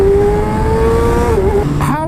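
A 2019 Kawasaki ZX-6R 600 sport motorcycle accelerates hard through its first gears. A loud, high engine note climbs steadily, drops briefly at a shift, then rises again close by.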